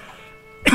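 One short, sharp cough bursts out close up at the very end, following a quiet stretch of faint background tones.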